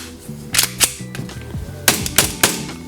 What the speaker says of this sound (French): quand je tire à vide, la culasse reste bien bloquée